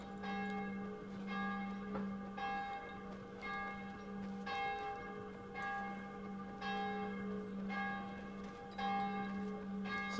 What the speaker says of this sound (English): I hope you guys love bells because it's fucking 7 PM